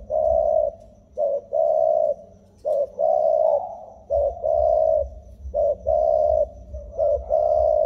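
A male pigeon, the father of a breeding pair, coos nearby in loud repeated bursts, a run of short and longer coos with brief pauses between them.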